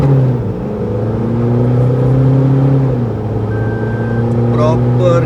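A Stage 3 tuned Toyota Fortuner accelerates on an expressway, its engine droning steadily with rising and shifting tones through gear changes, heard from inside the cabin at a loud, constant level.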